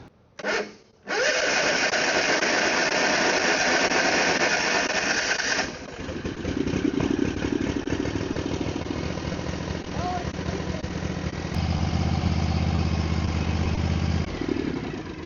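A small lawn mower engine with a freshly cleaned carburetor, new oil and an added fuel shutoff starts after a brief pull, then runs loudly and continuously at a steady, slightly rough idle, close by.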